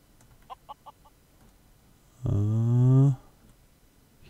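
A chicken in the video game Craft the World gives a few soft clucks, then one loud, drawn-out squawk lasting nearly a second. Nobody talks.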